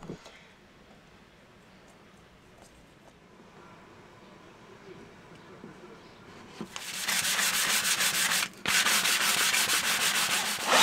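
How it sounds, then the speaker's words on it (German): Fine sanding pass over a wooden countertop to remove leftover glue residue, starting as quiet rubbing before a loud, steady power-sander hiss takes over for the last four seconds, broken by one brief pause. "jetzt haben wir mal grob die Klebereste abgeschliffen und jetzt gehen wir fein drüber"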